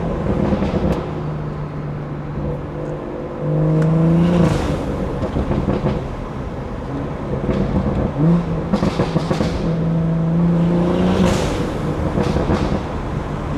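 A 500HP BMW 340 accelerates hard, heard as loud rising intake and exhaust sound through repeated gear pulls with short pauses between them. The car is close and plays alone without talk.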